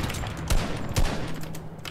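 In a Fortnite match, two sharp gun blasts ring out about half a second apart amid a busy game soundscape, followed by lighter scattered clicks and background effects.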